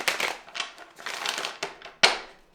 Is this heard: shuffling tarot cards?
yes